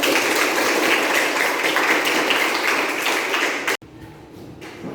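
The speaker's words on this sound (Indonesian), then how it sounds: "Oke, kasih tepuk tangan." Children in a classroom give a sustained round of hand clapping, dense and loud, that stops abruptly near the end, leaving quiet room tone.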